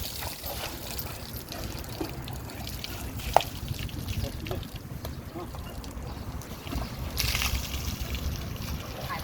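Water runs from a hose for elephants to drink, a constant close rushing trickle and splash with occasional sloshing, while someone talks over it.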